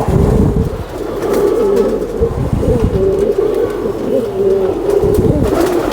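Several Sialkoti pigeons coo close by on a rooftop, overlapping throaty rolling calls repeating steadily throughout with a faint murmur of background activity.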